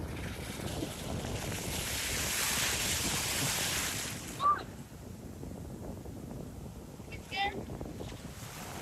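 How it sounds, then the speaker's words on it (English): Waves and wind on a beach, steady wind-blown surf noise that washes in and eases off, with faint voices and brief sounds breaking through near and far. "This is America Beach,"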